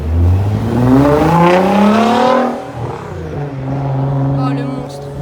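A Nissan GT-R with a Liberty Walk body kit driving past on a street in Deauville, its engine note rising then falling away as it passes close by, with someone talking over it.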